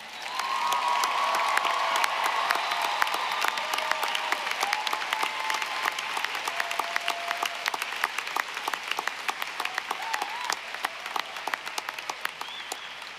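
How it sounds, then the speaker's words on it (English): Sustained applause fills a university commencement ceremony for the graduating class, a large crowd clapping steadily and loudly throughout with dense, even hand claps and no speech over it. "Oh, clap again."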